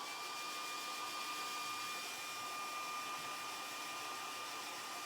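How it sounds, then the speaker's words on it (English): A handheld blow dryer runs steadily on braided hair, a close, continuous broadband whoosh with a faint whine, holding constant with no talk over it. "I'm just picking up the blow dryer and just going over the braids."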